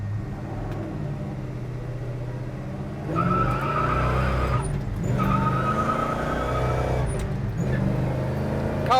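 A 1970 Chevrolet Chevelle SS with a cowl induction hood rumbles at idle, then revs up hard into a loud, sustained roar with a few dips and surges while driving, close and alone.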